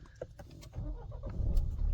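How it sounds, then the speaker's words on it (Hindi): A car engine cranks and catches in a short, fairly quiet burst, the motor then settling into a low idle rumble. "ये गाड़ी स्टार्ट"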